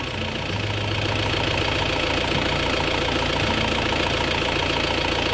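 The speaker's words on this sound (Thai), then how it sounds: "รถอีทิสุมังกรทอง คันนี้ นะครับมีเสียงเครื่องเคกค่อนข้างแรง พอสมควร" Isuzu Dragon Gold pickup engine idling with a loud, steady knocking clatter, a continuous mechanical rattle close by throughout with no talk.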